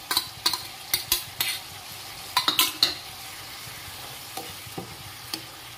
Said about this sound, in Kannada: ಈ ಫ್ರೈ ಮಾಡಿದ ಬೆಂಡೆಕಾಯನ್ನು ಬೇಯಿಸಿಟ್ಟ ಬೆಂಡೆಕಾಯನ್ನು ಇದಕ್ಕೆ ಹಾಕಿ